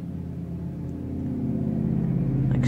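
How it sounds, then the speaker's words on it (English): A neighbor's loud truck drives up nearby, its low engine rumble steadily growing louder and closer over a few seconds, with a brighter rise at the very end. "Excuse my neighbor driving up."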